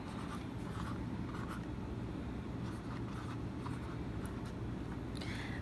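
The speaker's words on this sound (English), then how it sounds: "when I write the medication, I can also write the expiration date" A pen scratches an expiration date onto a medicine label in short, soft strokes, faint against a constant low background hum.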